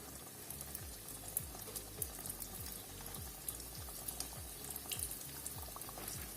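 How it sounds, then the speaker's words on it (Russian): Manti dumplings frying in hot oil, a steady close sizzle and crackle with soft bubbling and occasional brief pops, continuous throughout with no talk. "И мы вниз головой их опускаем в это масло и обжариваем."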